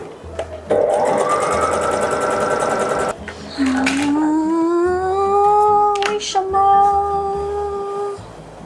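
A sewing machine quilts fabric, running in a loud, fast stitching burst that stops briefly around three seconds, then restarts with a whining motor tone that shifts in pitch as it runs on close by.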